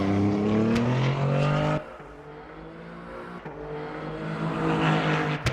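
Duqueine LMP3 race car lapping Spa in a racing simulator, engine screaming loud and close with rising revs, a sharp cut and downshift near two seconds, then building again toward a high-pitched wail.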